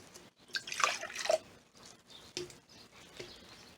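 Excess water pouring and dripping out of an orchid pot of lava rock, a splashy trickle followed by scattered faint drips, close and quiet with no talking.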